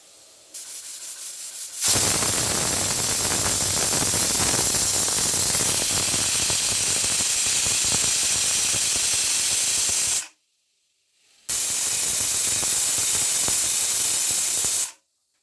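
A pressure cooker on a gas stove, cooking rasam, vents steam in a loud, harsh hiss lasting about eight seconds, then falls briefly silent before a second shorter blast.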